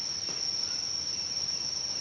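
Farmed crickets chirp in a continuous high-pitched trill, steady and dense like a whole colony, with a soft rustle underneath and no voices.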